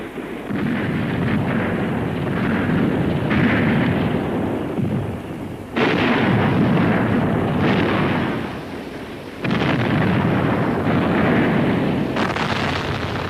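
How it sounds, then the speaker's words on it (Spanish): Artillery in a long-range duel during the Vietnam War, heard as sustained rumbling booms and heavy, continuous bursts with a few abrupt surges, loud and dense throughout with no speech. "La artillería comunista respondió en un duelo de largo alcance."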